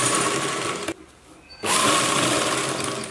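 A sewing machine stitches along a folded chudithar top hem in two loud, steady bursts of whirring, with a brief quiet pause between them.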